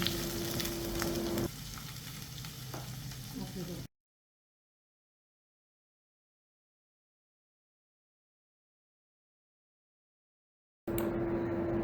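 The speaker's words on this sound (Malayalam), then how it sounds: "ഇനി ഇതൊന്ന് വഴറ്റിയെടുക്കുക" Finely chopped small onions sizzle as they are sautéed in a frying pan for chicken kondattam; the steady frying hiss runs under a voice, drops out to silence, then returns.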